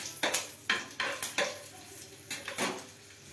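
Green chillies tossed into hot oil for tempering, with a run of sharp spatters and pan clatters in quick bursts, then a pause and a few more crackles, fairly quiet and close with no talking.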